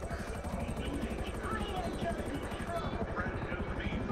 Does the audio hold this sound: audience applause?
no